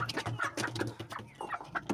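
An Aseel hen clucks repeatedly in short, close bursts while being held in someone's hands.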